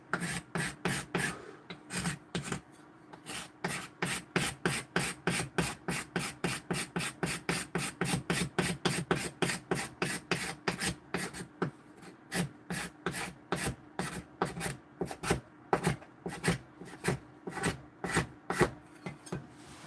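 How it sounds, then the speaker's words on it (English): A hand scraper shaves a carved wooden spoon in quick, even rasping strokes, dozens of close scrapes in a steady rhythm with a brief pause near the middle, with no talking. "that's what this scraper, you can see here. It's taking it off ever so slightly"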